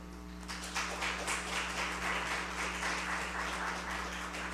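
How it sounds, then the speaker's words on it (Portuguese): Applause from an audience at a solemn session awarding medals, fairly faint and distant over a steady electrical hum, with an even patter of clapping lasting several seconds. "gostaria que todos fizessem uma salva de palmas para essa heroína"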